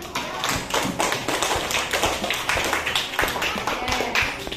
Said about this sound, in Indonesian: Mari kita tepuk tangan untuk hasil kerja kita hari ini.